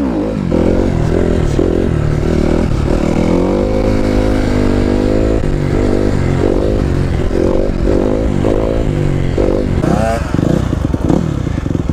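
A motorcycle engine revs and drones loudly and steadily with fluctuating pitch as the bike is ridden in circles, with clattering and scraping along the way.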